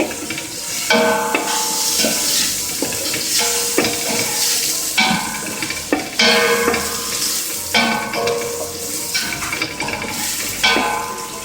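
Garlic sizzles in a hot pan while being stirred, with scraping strokes of a utensil repeating every second or two over a steady frying hiss for chicken arroz caldo.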